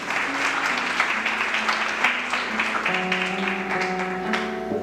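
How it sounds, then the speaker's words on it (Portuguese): A church congregation applauds during a Sunday service, a steady wash of many hands clapping layered over sustained keyboard tones, with no voices on top. "Vamos aplaudir a Jesus, amém?"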